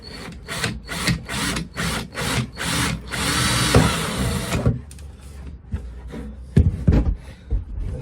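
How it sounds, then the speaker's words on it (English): A power drill bores through a diesel tank on a boat in a series of short, loud bursts, then runs in one longer continuous stretch before stopping; some clattering follows. "just drill your hole roughly"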